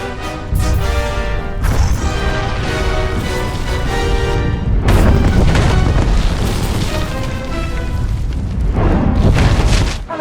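A bomb goes off in the Star Wars: The Old Republic game on Corellia, a loud sustained booming blast with crashing debris and rumbling that swells again near the end, layered with dense game sound and music.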